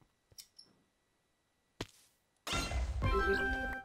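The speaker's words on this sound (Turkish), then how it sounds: "Baktığım yerde ufak bir patlama yaratan bir şey oluşturdum." A small explosion set off in a Minecraft modpack game: a soft early thunk, a sharp burst, then a loud, dense rumbling blast with tonal ringing that carries on to the end. No one speaks.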